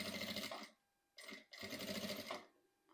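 Sewing machine fitted with a piping presser foot stitching along fabric piping, running in three bursts of rapid mechanical whirring with short pauses between, close and clear, no talking.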